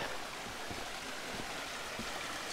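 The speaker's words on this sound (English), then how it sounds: "It's a pretty little creek." A small creek flows beside a mountain hiking trail with a steady, close rushing and gurgling of water, continuous and fairly loud, with no voices.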